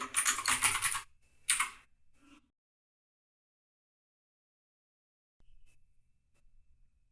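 Keys on a computer keyboard are typed in a quick, close flurry while a title is edited in Photoshop, followed by a few isolated taps, then near silence and faint soft clicks.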